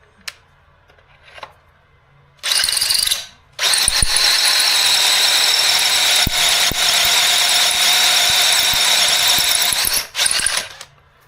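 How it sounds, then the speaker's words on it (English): A drill bores a guide hole in cast iron during a 1982 VW Westfalia Subaru engine install, with a brief start, then a long loud grinding whine with ratcheting clicks, stopping briefly and resuming near the end. "Now I have to drill a guide hole for that."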